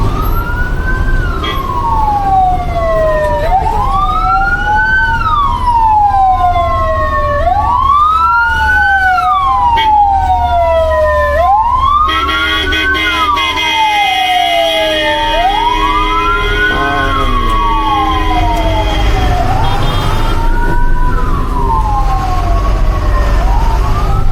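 An ambulance siren wails in repeated rising-and-falling sweeps, loud and close amid highway traffic in Kerala, heard from a truck with a low engine rumble underneath and a second horn-like tone briefly joining midway.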